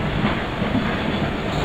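An Indian Railways Duronto Express hauled by a WAP-4 locomotive rolls along the rails in the Open Rails simulator game, a steady loud rumble with rhythmic wheel clatter.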